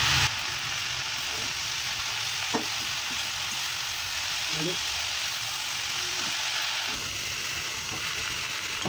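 Chopped red amaranth greens (rajgira lal bhaji) fry in a pan with a loud, continuous crackling sizzle and occasional stirring clinks, close up, with someone speaking faintly underneath.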